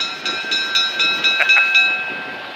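A train at the Southeastern Railway Museum in Duluth, Georgia, near Atlanta, runs with a steady rhythmic clicking of wheels under a sustained high tonal whine, fairly loud and close, with no talk.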